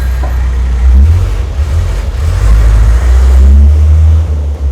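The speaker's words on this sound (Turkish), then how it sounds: "Bu arabalar da beni buluyor." Cars passing close by the courtyard of the Süleymaniye Mosque in Istanbul, a loud low engine rumble that swells and rolls past continuously.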